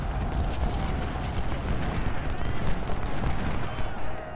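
Artillery fire in the Civil War strategy game Ultimate General: Civil War rumbles as a dense, continuous barrage of booms and crackling shots, with faint voices mixed in under the din.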